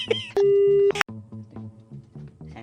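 A short electronic tone sounds, one long steady beep followed by a series of brief repeated beeps in a regular pattern.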